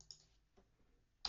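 A few sparse, faint clicks from a computer keyboard while a URL is typed into a new browser tab, spaced apart with quiet gaps and one sharper click at the end.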